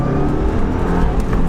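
A Subaru Impreza WRX S Prodrive engine pulls hard under acceleration, a loud, close, continuous rising drone with a rich throaty growl.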